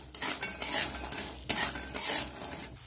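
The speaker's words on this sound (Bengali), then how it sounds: "ভালো করে নেড়ে চেড়ে লাল লাল করে ভেজে নেব।" Lentil dumplings (bori) fry in hot oil while being stirred, giving a steady sizzle broken by several scraping, clinking stirring strokes, close and fairly loud, with no talking.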